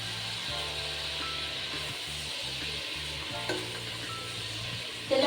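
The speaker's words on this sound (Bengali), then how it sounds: "এটা দিয়ে আমি খুব ভালোভাবে কষিয়ে নিব, যাতে আদা রসুন কাঁচা গন্ধটা না থাকে" Spices with ginger and garlic paste being sautéed in oil for chicken khichuri, a steady close sizzle with occasional stirring scrapes and clinks from the pan, no voices.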